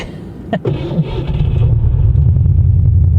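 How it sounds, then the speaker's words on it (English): A 2020 Jeep stuck and sinking in mud, its engine revved hard to keep it running: a loud, steady low rumble that builds after a few brief knocks and holds close for the rest of the clip. "you got to really rev it, but we're sinking in the mud"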